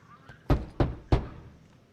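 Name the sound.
locked door being tried, from the video game Guardians of the Galaxy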